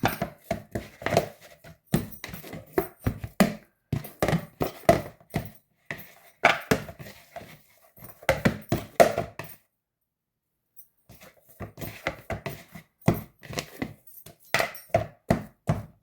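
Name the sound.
kneading dough with oil by hand for coconut poli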